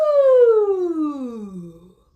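A single voice glides on an "ooh" from high down to a low, breathy bottom in one smooth falling sweep as a vocal exercise, close and clear and trailing off to silence.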